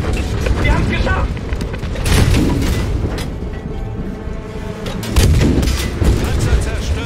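Battlefield V tank being destroyed: heavy booming explosions and dense gunfire fill the whole stretch, with louder blasts near the two- and five-second marks and battle noise continuing throughout, with voices mixed in.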